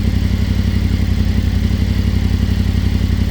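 A Yamaha Tenere 700 fitted with a Barnett clutch idles in gear close by, giving a steady low, loud engine rumble with an even mechanical clatter throughout.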